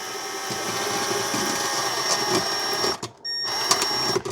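Over-the-range Magic Chef 1.6 cu. ft microwave mounting bolts are driven into drywall anchors, giving a close, steady mechanical whirring buzz that cuts out briefly near the end, then resumes.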